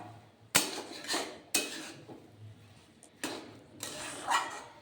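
A semolina mixture with potato, peas and vegetables being stirred in a pan for appam, giving a few sharp scraping clanks of utensil on metal at irregular intervals over a quiet background.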